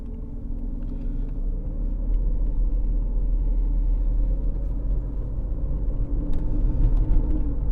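A Mercedes S600 with a V12 engine drives along with a heavy steady rumble from inside the cabin, the engine note rising slightly as the transmission moves through a gear change, no speech.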